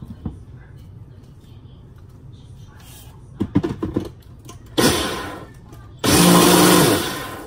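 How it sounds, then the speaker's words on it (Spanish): An electric blender pulses pitaya chunks for homemade bolis, starting after some small handling clatter: a loud whirring burst, a brief pause, then a second longer, steady roar close by. "Entonces ahora voy a licuar"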